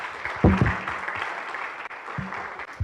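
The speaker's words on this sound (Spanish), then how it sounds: "Creo que un aplauso para Socorro y para todos." A seated audience applauds at the close of a binational dialogue panel event. Soft, continuous clapping holds steady, and brief low voices sound faintly beneath it.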